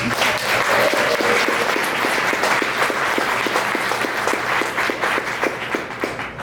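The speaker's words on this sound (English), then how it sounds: "So let's do one round of applause for the organizers of this event." An audience at an urban forestry panel event in Los Angeles gives the organizers a dense, sustained round of applause that holds steady throughout and eases slightly at the end.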